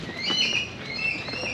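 Birds call at Cebu Safari and Adventure Park, a steady wash of high chirps and tweets running through the whole stretch over outdoor background noise, moderately loud with no clear single voice standing out.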